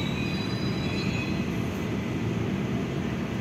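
Commuter train at Manggarai transit station, a steady loud rumble of rolling railcars with faint high wheel squeal early on, continuous throughout with no talk.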